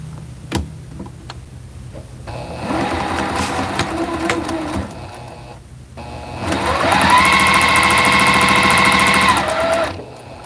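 A sewing machine stitches quilt seams in two runs, the second longer and steadier with a rising whine, a quiet room tone between them and no talk.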